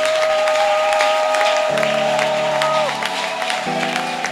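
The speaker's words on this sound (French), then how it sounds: "Est-ce qu'on peut acclamer le roi des rois?" Church congregation at a morning prayer service applauding and cheering for the King of kings, a steady dense crowd wash with a sustained organ or keyboard chord ringing underneath.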